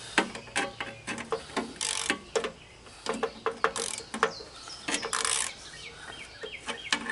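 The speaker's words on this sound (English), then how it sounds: "I gotta take this other bolt out because it's been rambling around." A bolt is worked out of a walk-behind Roper Giant tiller, giving close metallic ratcheting clicks in quick irregular bursts with short pauses between them.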